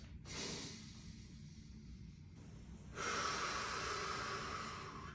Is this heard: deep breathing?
yes